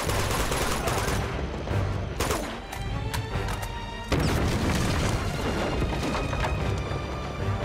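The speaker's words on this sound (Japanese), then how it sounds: "爆発するぞ。" Explosion in the video game Uncharted: a loud, sustained roar of blasts and crashing debris with gunfire-like crackle, a brief dip and then another heavy burst.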